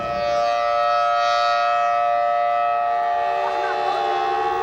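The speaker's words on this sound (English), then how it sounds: "Sirens sounded in Kuwait, under threat for the first time since its liberation 12 years ago." Air raid sirens wail in Kuwait during the 2003 Iraq war, a loud sustained tonal drone holding steady throughout with a slight rise and fall.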